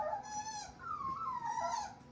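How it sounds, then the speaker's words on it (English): A two-week-old North American Mastiff puppy whimpers close by, with thin rising and falling whines, two drawn-out cries in quick succession and no talking over them. "So these are 2 week old puppies."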